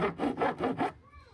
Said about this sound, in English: Gonna do a little bit of hand sanding here